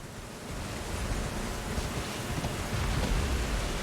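Rain in Elden Ring, set in the Caelid region: a steady wash of hiss and soft rumble that builds slightly louder toward the end, with no talking.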